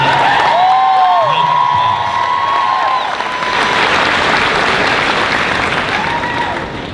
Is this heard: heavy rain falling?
no